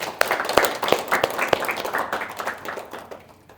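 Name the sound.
classroom applause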